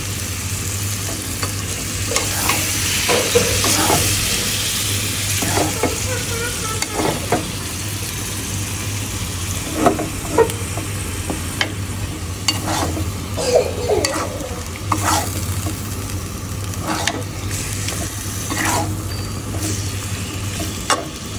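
Meat being stir-fried in oil in a pan, a steady close sizzle broken by repeated scraping stir strokes, with a constant low hum underneath.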